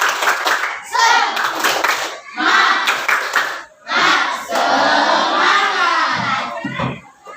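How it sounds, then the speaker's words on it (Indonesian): A class of children claps in quick rhythmic patterns, punctuated by loud shouted chants, close and energetic throughout. "Oke, tepuk semangat dulu. Tepuk semangat."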